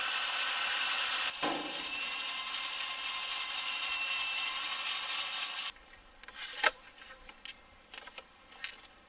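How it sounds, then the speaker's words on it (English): A power drill with a dull bit grinds with a steady, harsh rasp for several seconds while working on PVC, then cuts out, leaving a few scattered clicks and handling knocks. "I have a very dull drill bit here."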